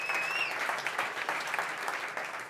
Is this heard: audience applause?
yes